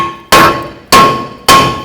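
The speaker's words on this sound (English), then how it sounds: "If it doesn't slide off, you can take a hammer," A hammer strikes the brake rotor of a 2004–2010 Toyota Sienna three times, each blow a loud metallic clang that rings on steadily before fading, evenly spaced about half a second apart and heard up close.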